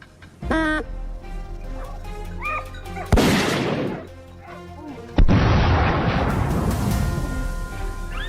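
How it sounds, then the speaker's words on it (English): Gunfire aimed at a wild boar on farm fields: sharp loud bursts around three and five seconds, each followed by a long rumbling broadband wash, with tonal chirps and cries scattered between the blasts. "A burst of gunfire echoed through the air."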